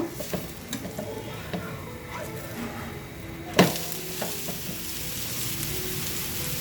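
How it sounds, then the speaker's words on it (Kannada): A semolina and gram flour batter sizzles and fries steadily in a pan over a medium flame, with a soft stirring scrape and one clear knock against the pan partway through. "ಇದನ್ನು ಕೂಡ ಮೀಡಿಯಮ್ ಫ್ಲೇಮಲ್ಲಿ ಬೇಯಿಸ್ಕೊಂಬರೋಣ"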